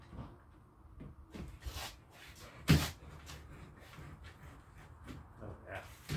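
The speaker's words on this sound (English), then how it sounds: "Oh, that's a heavy door." A heavy patio door is moved during rescreening with a heavy-duty screen, giving scraping and rubbing sounds, soft knocks and one sharper thump near the middle, all close and fairly quiet.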